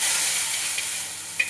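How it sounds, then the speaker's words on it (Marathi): Mustard seeds, cumin and garlic sizzling in hot oil in a kadai, a steady bright hiss that fades slightly, with a couple of faint pops near the end. "सुरुवातीला आपण टाकणार आहोत मोहरी, त्यानंतर थोडंसं जिरं, त्यानंतर लसूण"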